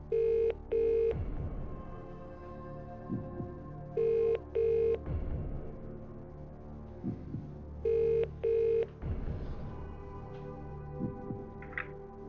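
A phone line on a television quiz rings in a repeating pattern of double tones, three pairs spaced evenly over a low electronic throb, moderately loud, with no talk over it.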